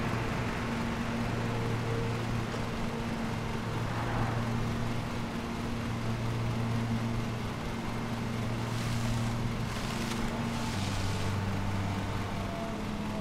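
A lawn mower engine from Lawn Mowing Simulator runs in a steady, close drone with a constant pitch that shifts slightly near the end, alone with no talk.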